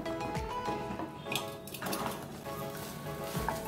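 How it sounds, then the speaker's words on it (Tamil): Semolina (rava) is stirred in a cooking pot, with scraping and clinking of the utensil against the pot in several close strokes over a soft sizzle, and no talk. "இப்படியே அப்பப்போ கிளறிட்டே இருக்கணும்"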